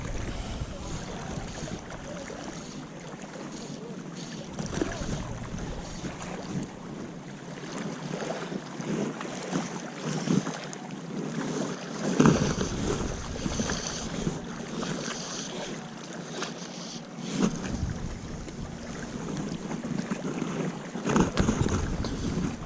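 Steady headwind on a float tube while fly fishing in Portugal buffets the microphone in gusts, a continuous rushing roar with low rumbling surges, near and fairly loud throughout.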